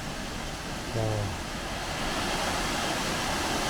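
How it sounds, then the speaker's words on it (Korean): Loud, steady rushing of a clear mountain stream runs through the whole stretch, a dense roar close by near a bridge, with a brief voice rising over it near the start. "여기는 물소리 살벌하다"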